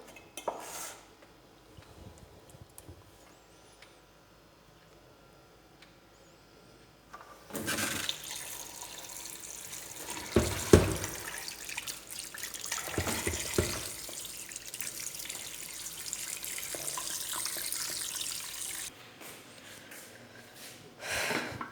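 Water rushes and splashes loudly over cut chicken pieces in a pot for cooking, a sustained pour lasting several seconds after a quiet start.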